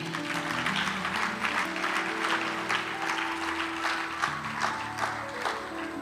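A church congregation applauds God during a morning worship service, with sustained, dense clapping from many people over a low sustained musical tone.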